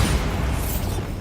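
Bombarda blasting spell exploding in the video game Hogwarts Legacy, a loud, dense blast filling the whole moment with heavy low rumble and a brief brighter crackle near the end.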